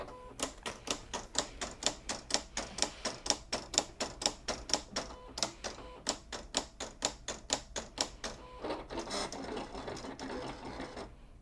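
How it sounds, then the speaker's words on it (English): A Silhouette CAMEO cutting machine test-cuts Siser EasyReflective heat transfer vinyl, giving a fast, steady run of sharp ticking, gritty clicks like rapid typing, ending in a rougher continuous grinding whir, fairly faint and close. "it sounded like there was like a gritty cutting paper noise"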